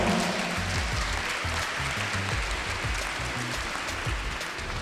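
A crowd at a French political rally in the Ain department applauds steadily, a dense, continuous patter of clapping at moderate level that holds through the whole stretch without a break.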